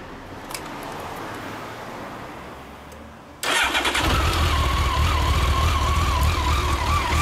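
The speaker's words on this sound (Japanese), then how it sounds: "ごめん、エンジン音聞かせてくれる、" A 2014 Honda CBR250R motorcycle engine fires up abruptly after a quiet stretch and settles into a loud, close, steady running note with a rough pulsing edge.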